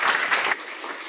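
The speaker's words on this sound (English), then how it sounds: "Give them an applause." Seminar audience applauding after two presentations on solar energy research, a dense, loud burst of clapping that drops off sharply about halfway through and then trails on more softly.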